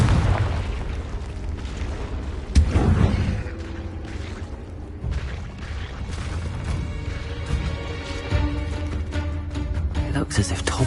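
A Confringo blasting spell bursts with a sharp explosive boom in Hogwarts Legacy inside a cave, followed by rumbling debris and ambient game sound, with a voice speaking around it.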